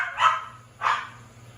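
A house dog in a home kitchen, where taco filling with drained meat and seasoning is being made, lets out two short barks about half a second apart, moderately loud over a low steady hum.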